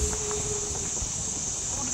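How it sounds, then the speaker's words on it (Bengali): Crickets in the forest of Gorumara National Park keep up a steady, high, unbroken drone for the whole moment, over a faint low rumble of the surroundings. "ঝিঝি পোকা পরিষ্কার শুনতে পাচ্ছি আমরা এখান থেকে"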